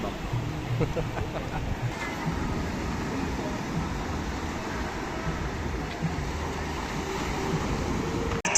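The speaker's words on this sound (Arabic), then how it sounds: "البحر اهو. البحر." Sea waves at the shore roll in as a continuous, moderately loud rushing wash with wind-like noise, steady throughout with faint background voices.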